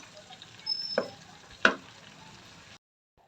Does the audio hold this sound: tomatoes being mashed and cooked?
yes